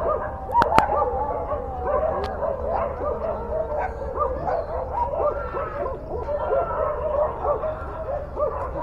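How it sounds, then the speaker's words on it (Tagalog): Several dogs bark, yip and whimper in a scuffle outdoors in Zamboanga City, a near, continuous jumble of overlapping yelps and growling barks that rises and falls in busy bursts. "So yan, ingay ng aso. Gaaway. Labanan na sila. Gaaway ang mga aso."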